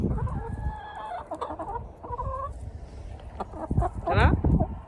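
Hens in a henhouse clucking and squawking close by, with irregular bursts and one sharper rising call, as people talk quietly in between.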